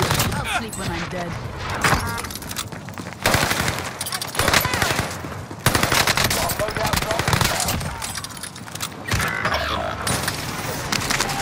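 Dense, loud video game gunfire keeps going throughout: rapid automatic bursts and single shots pile onto each other with clanking mechanisms, and voices speak over the shooting.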